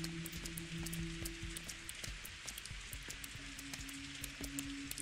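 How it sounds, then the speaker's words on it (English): Steady rain falls in the video game Pathologic 2, a dense continuous patter of drops with scattered sharper splashes over low game tones, moderately loud throughout with no voices. "It's pissing down rain."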